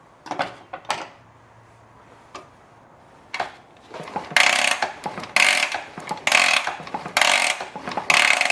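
A Triumph Bonneville T140V motorcycle engine is cranked during an oil pump check, starting with scattered mechanical clicks, then loud repeated bursts of ratcheting, whirring cranking in a steady rhythm.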